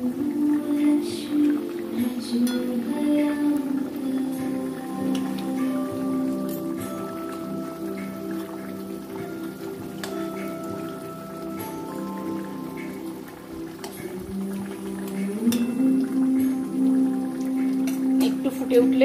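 Thin tangra fish curry broth simmering with vegetables and fish in the pot, a continuous soft bubbling and popping like light rain, with occasional drips and faint talk.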